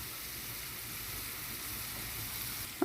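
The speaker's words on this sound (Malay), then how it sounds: "Okey, kita tumis hingga dia kuning sedikit." Food sizzles steadily in a hot pan as beef is sautéed until lightly golden for a soy-sauce braise, a continuous close frying hiss with a brief clink near the end.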